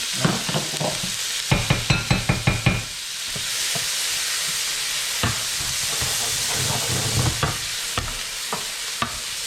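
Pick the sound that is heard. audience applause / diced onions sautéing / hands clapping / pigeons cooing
diced onions sautéing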